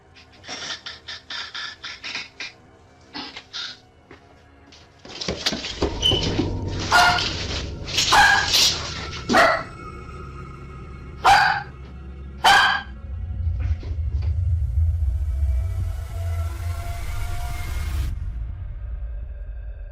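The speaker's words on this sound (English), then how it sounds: "Her dog sensed something was wrong and started barking loudly, more aggressively than ever before." A dog barks loudly and aggressively in a rapid series of sharp, close barks, some separated by brief pauses, over a low rumbling background.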